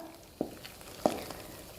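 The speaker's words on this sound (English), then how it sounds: "Just give everything a good stir," A utensil stirs mushroom and vegan chilli ramen ingredients in a pan, making two short, soft scrapes about half a second apart over a quiet cooking background.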